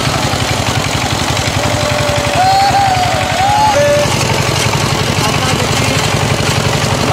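A power tiller engine with an added rear wheel chugs loudly and steadily in a rapid, regular thumping rhythm close by, while a faint whistle-like tone wavers briefly in the middle and people are heard over it.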